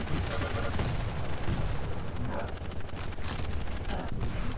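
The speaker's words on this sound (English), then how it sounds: "That's an interesting audio bug. Or maybe he's just constantly a machine gun now." A continuous machine-gun-like rattle from an audio bug in a Quake 1v1 match, loud, dense and unbroken throughout, with rapid repeating bursts over the game din.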